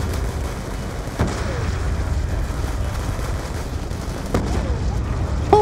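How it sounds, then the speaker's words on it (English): AK rifle fire rings out in the Black Ops 2 campaign, with a few sharp cracks standing out over a steady din of battle noise. "Oh, I love this goddamn AK, man."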